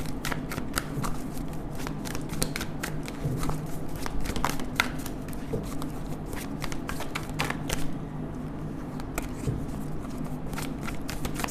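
Tarot cards being shuffled by hand, a run of crisp, quick riffling and flicking bursts close up, steady throughout with no talking.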